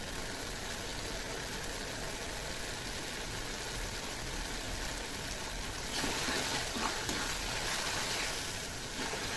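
Spice paste with tomato and salt frying in a pan for a loitta fish and potato curry, giving a steady, even broadband sizzle that swells a little louder toward the end.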